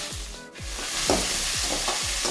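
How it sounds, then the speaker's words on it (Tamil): Onion and tomato sautéing in a pan for semiya kichadi, a steady sizzle with repeated low scraping strokes of a spoon stirring at a regular pace, close and fairly loud. "வெங்காயம் தக்காளி எல்லாம் நல்லா மசையாக வதக்கிக்கணும்"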